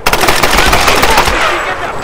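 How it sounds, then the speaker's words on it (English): Rapid video-game machine gun fire rattles continuously for a couple of seconds, loud and close, with no pauses. "She's shooting at us."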